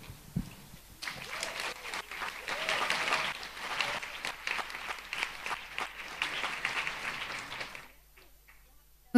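An audience applauding after a project presentation at the Jugend Hackt Berlin 2019 youth hackathon, with sustained clapping that fades after about eight seconds and ends in a sharp thump.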